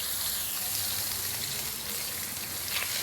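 Barungoy fish frying crisp in a pan of hot oil for a morning meal, a dense continuous close-up sizzle and crackle throughout, with no talking.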